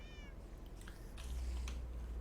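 A cat meows a few times in quick rising cries near the start, close and moderately loud over a steady low hum of game background sound.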